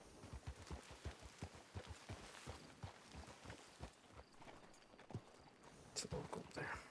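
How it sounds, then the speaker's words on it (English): Wild horses from the game RedM gallop off, a rapid run of hoof clip-clops that stays fairly quiet, with voices talking faintly alongside. "Wild horses running away from that local up there."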